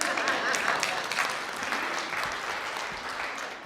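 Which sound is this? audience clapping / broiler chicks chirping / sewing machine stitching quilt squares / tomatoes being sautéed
audience clapping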